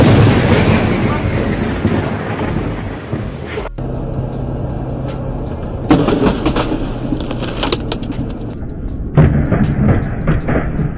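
Thunder from lightning strikes rumbles loud and close, beginning as a long heavy roll and then returning in several sharp cracks and booms with rumbling in between.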